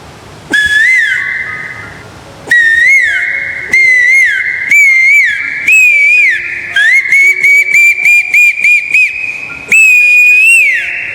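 A shrill whistle imitates a koel's call, rising repeated notes in several bursts, then a quick run of short staccato toots before one final long call.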